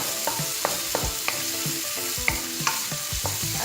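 Pork stir-fries in a pan for glass noodle and cabbage stir-fry, a close, even sizzle punctuated by quick rhythmic spatula scrapes and knocks about every third of a second, with no voices.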